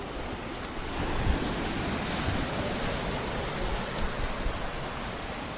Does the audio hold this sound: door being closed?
no